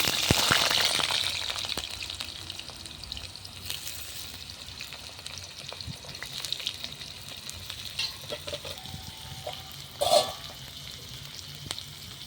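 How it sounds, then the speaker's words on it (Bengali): Potatoes fry in hot mustard oil in a kadai over a clay stove, a loud sizzling burst at first that settles into a steady crackle, with occasional stirring scrapes and a brief splash later. "তেলটা গরম হয়ে গেছে, আলুটা ভেজে নেব।"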